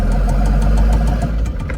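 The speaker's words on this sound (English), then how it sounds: "The drive shaft smacking it." Diesel-swapped Mercedes 380SL roadster with a turbo OM603 engine, its drive shaft thumping against the body in a rapid irregular knocking over a loud, low engine drone, close and continuous.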